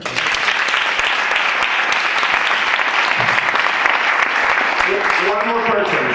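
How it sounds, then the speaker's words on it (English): A workshop audience gives a big round of applause for Eric, steady dense clapping filling the room throughout, with a voice starting to speak faintly near the end. "A big round of applause for Eric."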